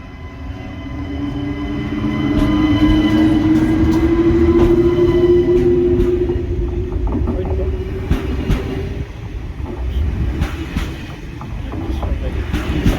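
Train pulling into Quimper station, a loud sustained rumble with a rising and falling tonal whine, then rhythmic clanks and clatter of wheels over rail joints as it nears, with people talking over it.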